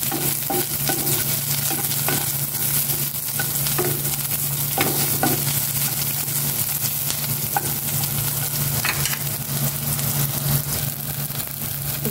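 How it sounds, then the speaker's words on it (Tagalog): Onion frying with scrambled egg in a pan, a steady dense sizzle with occasional stirring scrapes, close and continuous over a low constant hum, no talk. "Lalagyan ko ng sibuyas itong scrambled egg."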